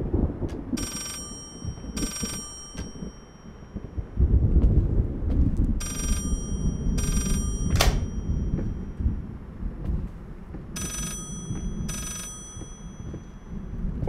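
A telephone rings in the horror video game Layers of Fear, repeated bursts of a bright, tinny bell-like ring at regular intervals over a low ambient rumble and footstep-like thuds.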